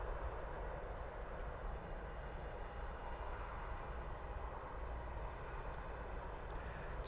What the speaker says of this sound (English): our A320 from EasyJet is rolling down runway 27 for the departure